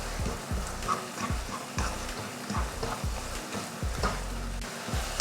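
Halwa with cardamom and cashews stirred in a pan, a rhythmic series of close scraping strokes over a soft sizzle, steady and without talking.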